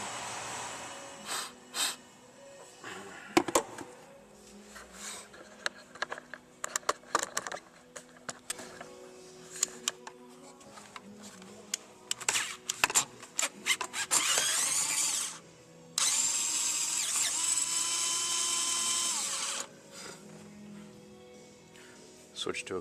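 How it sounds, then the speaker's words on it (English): A ratchet fitted with a swivel and extension breaks a bolt loose during a thermostat replacement on a 1997 Chevrolet Astro Van with a 4.3L V6. Scattered close clicks and metallic knocks give way to two sustained, loud bursts of rapid ratcheting. "We got a swivel and an extension. I'm going to break this bolt loose here now."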